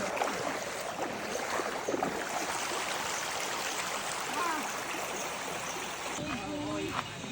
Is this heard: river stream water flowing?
yes